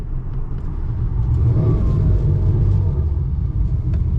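Inboard engine of a 2016 Defiance Admiral boat running in gear during a water test; a steady, loud low rumble that swells slightly after the first half second and holds constant.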